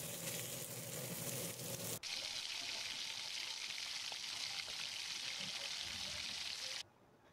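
Sweet potato and papaya frying in hot oil in a pan, a steady loud sizzle that carries on for several seconds before cutting off abruptly.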